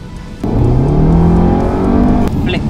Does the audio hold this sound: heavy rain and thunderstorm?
no